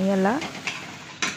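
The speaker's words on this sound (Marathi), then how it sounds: "आता याला आपण हळूहळू हलवायचं, म्हणजे याच्या गुठळ्या बनणार नाहीत." A spoon stirs besan pithle, a gram-flour dish, in a pan over low heat with soft scraping strokes, close and brief, following a short spoken phrase.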